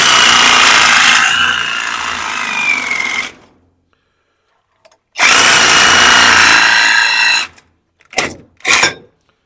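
Old brake pedal bushing clamped in a vise being split with a power tool, loud high whining bursts of cutting: a long run, a pause, another long run, then two short blips.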